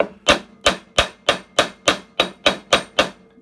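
Ten evenly spaced metallic hammer strikes driving a replacement bearing into a 12-inch bandsaw, steady and fairly loud, each tap ringing briefly before the next.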